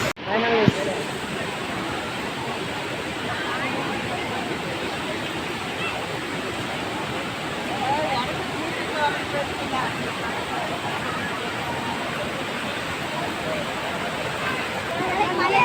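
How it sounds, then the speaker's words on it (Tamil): Steady rushing water pours down continuously, a dense roar with faint voices mixed in the background. "கீழ்ப்பாலம் பக்கம்லாம் தண்ணி ஊற்றுது"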